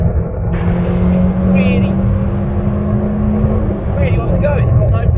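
Rover 216 SE coupe engine held at high revs, a steady loud drone close by with slight pitch shifts and faint tonal whines, a single spoken word at the start.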